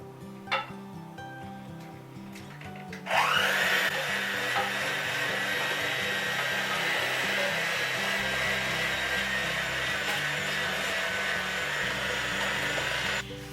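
An electric stand mixer churns cake mix with butter, egg and vanilla, starting abruptly after a few soft clunks and then holding a loud, steady whirring drone that shifts slightly as it runs.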